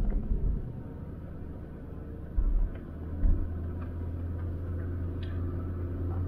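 4th-gen Toyota 4Runner pulling out and driving slowly: a low steady engine rumble with a couple of heavier thumps early on and light ticking, heard from inside the cabin.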